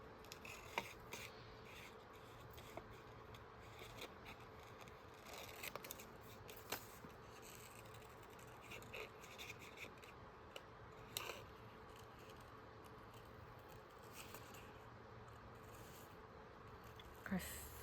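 Small, tiny scissors cutting paper in a spring journal, faint and close, with scattered quick snips and rustles spread across a quiet room.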